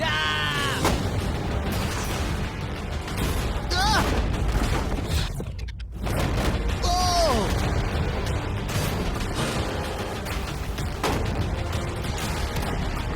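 Gunshots are fired at a shipping container as a rapid run of sharp cracks and bangs, with metallic hits and echoes, while people talk over the shooting.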